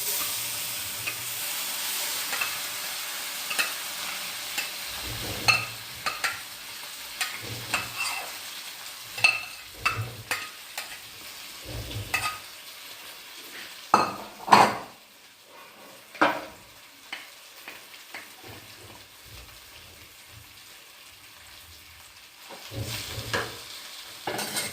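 Chana dal sizzles steadily as it fries in hot ghee in a pan, and a spoon scrapes and stirs it in irregular strokes. The sizzle is close and moderately loud, with no one talking.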